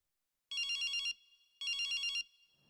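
A telephone rings twice, each ring a bright electronic trill of about half a second, separated by a short pause, clear and alone against silence.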